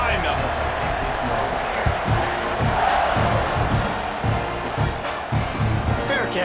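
A stadium crowd roars steadily at a college football game in EA College Football 26, a dense, sustained wash of cheering with chanting voices and occasional thumps rising from it, ahead of the kickoff.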